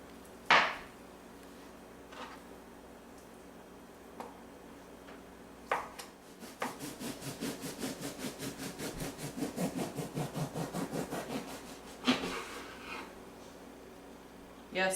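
A knife slices chicken into quarter-inch pieces on a wooden cutting board, with a rapid run of rhythmic chopping taps in the middle and a few isolated knocks before and after, close and fairly quiet.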